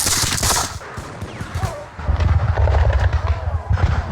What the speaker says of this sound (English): Soften them up with volley fire.